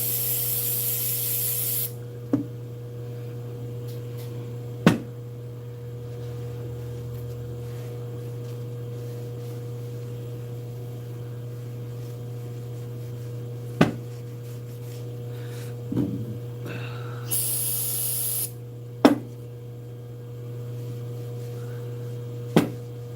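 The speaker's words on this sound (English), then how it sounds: "Some good old-fashioned carbonator cleaner." Two short hissing bursts of carburetor cleaner spray, one at the start and one later, separated by a long stretch of quiet steady hum and a few faint clicks.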